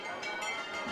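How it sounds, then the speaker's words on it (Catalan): Church bells of the Our Lady of Good Counsel parish ring during a Palm Sunday procession in Torrent, a bright, continuous metallic peal with overlapping tones, moderately loud and steady throughout the brief moment. "sonen les campanes de la parròquia de Nostra Senyora del Bon Consell"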